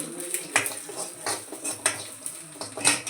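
Spoon scraping and clinking against a pan as mustard seeds and turmeric are stirred and fried for okra palya, a series of close, irregular metallic taps over a faint sizzle.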